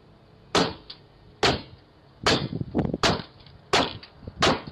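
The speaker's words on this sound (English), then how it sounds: "whacking the device with a hammer or broom handle" A Ring doorbell camera being whacked with a hammer or broom handle: six sharp, loud impacts spaced about a second apart, each a hard knock with a brief rattling tail.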